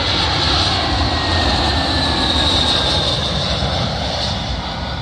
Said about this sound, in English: Arriving in now is a British Airways A320, working a service from Valencia to London Heathrow